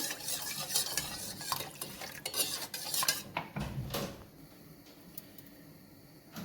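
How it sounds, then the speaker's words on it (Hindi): Milk being stirred into semolina kheer in a pan, with a spoon scraping and clinking against the metal and soft wet swishing, busier at first and then quieter. "वन कप इसमें मिल्क ऐड करेंगे, मिक्स कर लेंगे।"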